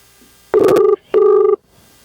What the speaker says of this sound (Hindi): अरे भौजी के फोन आ रहा हो